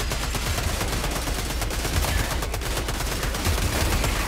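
Dense, continuous automatic gunfire in a shooter video game, rapid loud bursts overlapping without pause throughout.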